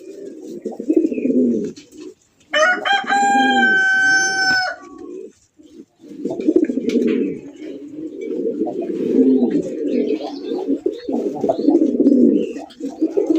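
Pigeons at a pigeon farm coo in a low, continuous murmur from many birds, loud and near, while a rooster crows clearly once partway through.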